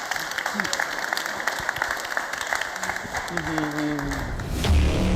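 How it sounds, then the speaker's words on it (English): Audience applause at a Bitcoin conference in Miami: a steady wash of many hands clapping, fairly loud and sustained, with a swell near the end and a faint hum underneath. "let's give these guys a warm round of applause"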